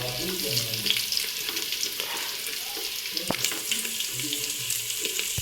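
Peanuts sizzling in a pan of hot oil while making homestyle egg chowmein, a steady close frying hiss with light stirring clatter, a voice speaking softly over it.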